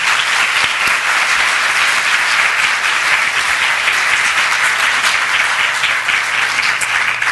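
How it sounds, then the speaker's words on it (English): A luncheon crowd gives a steady, full round of applause that stays loud and even throughout, with no speech on top. "Let's give them a round of applause and thank them"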